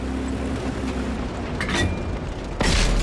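Tank cannon fire in a tank-battle video game featuring the Panther: two heavy booms, a moderate one midway and a louder, sharper impact near the end, over a low rumbling engine drone.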